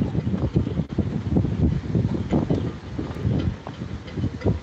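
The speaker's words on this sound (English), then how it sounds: "It is still quite windy." Gusty wind in the aftermath of Hurricane Fiona roars and buffets against the microphone in a steady, rough low rumble that swells and eases throughout.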